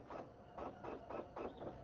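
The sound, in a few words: printer running in the background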